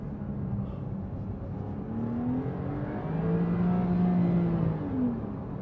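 A Porsche 911 991.2 engine pulls under acceleration, a muffled in-cabin drone whose pitch climbs and swells steadily, then eases near the end with no one talking.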